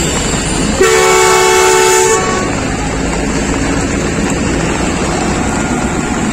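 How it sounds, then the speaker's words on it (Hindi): A loud train horn sounds for about a second as a Pakistan Railways train departs a Lahore station in heavy rain, then the steady rumble of the train continues alone. "फाइनल विसल हो गई है और ट्रेन ने चलना शुरू कर दिया"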